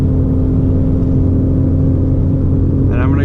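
A car engine drones loudly and steadily at speed during a wide-open-throttle data-logging pull, a dense, constant mechanical roar heard from close inside, with a voice talking over it near the end.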